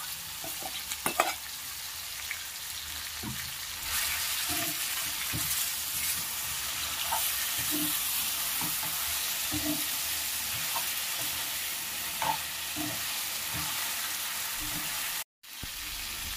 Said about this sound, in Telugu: ఈ విధంగా మనము ఈ చికెన్ని ఒక 10 మినిట్స్ ఫ్రై చేసుకోవాలి.